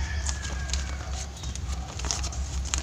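Small birds chirp and call faintly over a steady low rumble of water flowing in a stream, with short bright notes scattered throughout.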